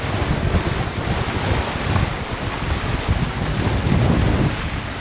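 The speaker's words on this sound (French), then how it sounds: "je sais pas si tu m'entends avec les vagues" Waves wash against a sailboat hull at sea while wind buffets the microphone, a loud, dense, continuous rush with no distinct breaks and no voices.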